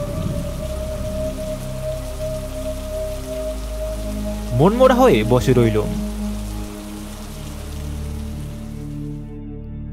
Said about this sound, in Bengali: হঠাৎ কোত্থেকে এসে বাধা দিল প্রচণ্ড ঝড় বৃষ্টি। মুহুর্মুহু বিদ্যুতের ঝিলিক আর মেঘের গর্জন অবস্থাটা আরও সাংঘাতিক করে ফেলল।